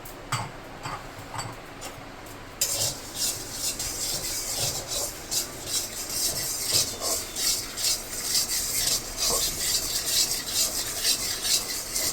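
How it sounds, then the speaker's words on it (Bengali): Whole fennel, cumin, black peppercorns and black salt dry-roasted in a pan, giving a steady dry scraping and rattling that starts a few seconds in and continues with a loose, rhythmic stirring pulse. "এই মশলাগুলোকে আমি শুকনো খোলায় একটু ভেজে নেব।"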